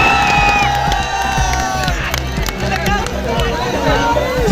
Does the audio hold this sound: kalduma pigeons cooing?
no